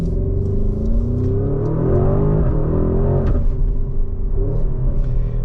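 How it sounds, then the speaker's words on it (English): A 2023 Porsche Cayenne Turbo GT engine runs loud and close, a steady low rumble with rising and falling revs sweeping through the whole stretch, no voices over it. "All right, let's fire this thing up and take it for a spin."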